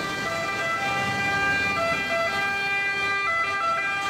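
Ambulance siren sounds in city traffic, a steady loud wailing tone over a constant bed of road noise, with no voices.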